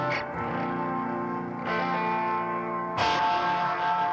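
Electric guitar played through a small, inexpensive amp with built-in spacey, watery modulation effects, three sustained strummed chords each ringing out with chorus-like shimmer and echo, clear and alone without talk.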